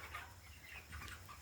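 Young four-week-old meat birds, including a rooster, cluck softly with brief, scattered calls and a faint flutter of wings over low background noise.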